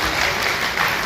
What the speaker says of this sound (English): Please a round of applause for the university.